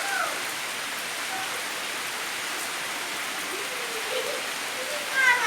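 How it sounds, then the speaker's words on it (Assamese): Heavy monsoon rain pours steadily outside in Assam, a dense, even hiss of falling water, with faint voices and bird chirps near the end. "এয়া দেখিছানে কিমান বৰষুণ"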